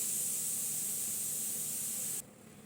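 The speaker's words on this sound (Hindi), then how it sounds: "किचन में खाना बन रहा है तो बस कुकर की सीटी थोड़ी सी आवाज़ आ रही है" A steady, fairly faint steam hiss from a pressure cooker in a home kitchen runs without a break, then cuts off abruptly near the end, leaving only quiet room background and no talking.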